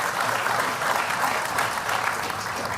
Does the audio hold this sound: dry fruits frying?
no